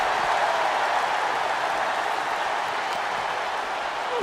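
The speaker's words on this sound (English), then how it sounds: "you hear this capacity crowd following you on that journey" A capacity arena crowd in a WWE SmackDown wrestling video game roars in a continuous, dense wash of cheering and applause, steady and loud without breaks.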